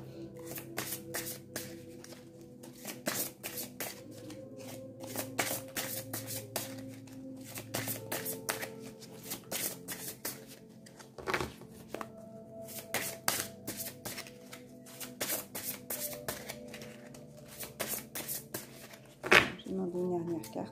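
A deck of cards being shuffled repeatedly by hand, crisp riffling bursts coming in quick rhythmic runs, with a faint steady hum in the background.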